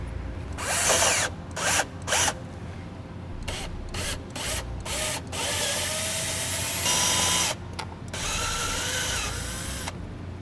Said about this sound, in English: Then I'll use this step drill bit in order to drill it out to the size that I need.